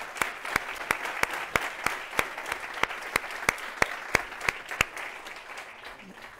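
Audience applause for the organizers at the T3chFest tech conference, a faint wash of clapping punctuated by strong, evenly spaced claps in a steady rhythm that stop shortly before the end.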